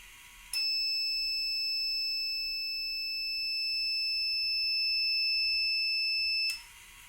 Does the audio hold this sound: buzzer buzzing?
yes